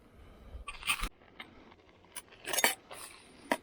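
Several sharp metallic scrapes and clinks in short bursts as a knife scrapes sand out of a scrap metal pot, close by, with quiet pauses between them and no talking.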